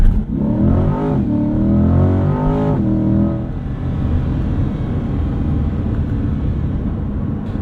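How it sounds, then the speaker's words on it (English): Chevrolet Corvette C8 engine revving loudly and close, a rising mechanical roar that peaks in the first three seconds, then settles into a steady, sustained engine drone. "The engine, it really wants to go."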